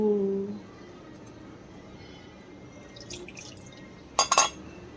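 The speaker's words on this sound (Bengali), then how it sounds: "গোপুসোনা স্নান করছো" Water drips and splashes during a Bengali home puja on Mahalaya as a small idol is bathed, a soft steady wash of trickling with a sharper burst of splashes near the end, under a quiet room tone after a brief voice at the start.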